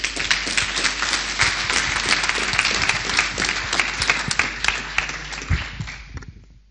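An audience applauds after a lightning talk at the Alfresco Summit 2013 in Barcelona. The clapping is loud and sustained, holding for several seconds before tapering off at the end, with no voices over it.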